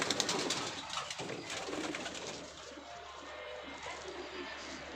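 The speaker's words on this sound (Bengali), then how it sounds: "এই কবুতরটা একটু ঠিক আছে" Pigeons coo in low, soft repeated calls inside a loft on a cold day, steady and close, with no talking over them.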